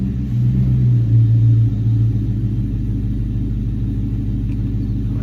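A New Edge Mustang GT V8 idles in gear inside a garage, a loud, steady low rumble with a slight dip and lumpy pulse in the first seconds before settling into an even drone.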